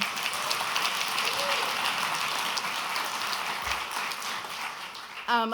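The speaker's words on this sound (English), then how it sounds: "just a round of applause for Evan and what he's been able to do" An audience at the Newark Alliance 25th anniversary event applauds for several seconds, producing a dense, even patter of many hands, fairly loud and continuous.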